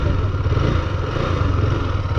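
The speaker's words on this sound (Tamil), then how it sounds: "Nice nice exhaust sound." Husqvarna Svartpilen 250 motorcycle exhaust running steadily nearby, a continuous loud engine drone with no voices over it.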